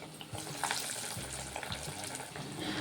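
Moong dal vadas (crispy pesara garelu) sizzle and crackle steadily in hot oil, a continuous fine frying hiss with small bubbling pops, fairly close and without voices.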